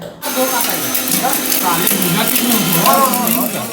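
Mixer grinder grinding ginger, a steady motor whir running continuously close by, with people talking and laughing over it at a New Year celebration.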